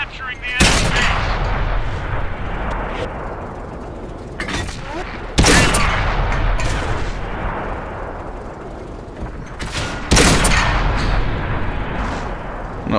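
Tank guns firing in World of Tanks, a Stug III Ausf. B German tank destroyer in battle: three loud, booming cannon shots spaced several seconds apart, each followed by a rumbling decay over continuous engine and battle noise.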